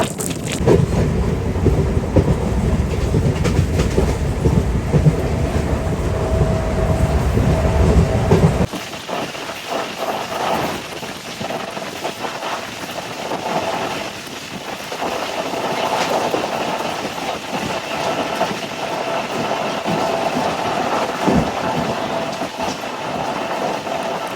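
A Kacheguda–Raichur MEMU passenger train runs along the rails with a steady, loud rumble and rhythmic wheel clatter, dropping to a slightly quieter, more even roar partway through.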